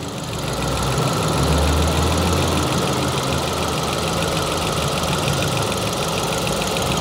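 Engine of a 2006 Ford Focus 2.0 idling steadily with a dense, even mechanical hum and faint ticking, loud and close, running continuously with no talk.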